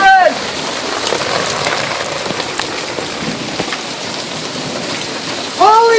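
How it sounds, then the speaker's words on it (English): Heavy hail pounds the ground during a storm in a dense, continuous roar of impacts, close and loud, with brief excited shouting near the end. "Heavy hail is hitting the ground right now as we speak!"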